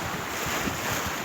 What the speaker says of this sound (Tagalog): Sobrang alon. Malakas ang alon.